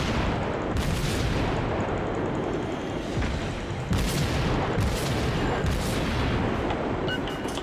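Heavy naval gunfire in World of Warships, loud continuous booms and rumbling explosions as shells strike a battleship, with repeated sharp blasts layered over a dense roar.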